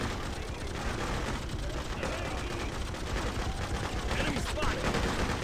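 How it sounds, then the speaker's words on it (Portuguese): Revolver shots and clanking gun mechanics in the war game Freedom Fighters, rapid cracking reports over a busy, dense battle background that stays loud throughout. "Vou usar um revólver"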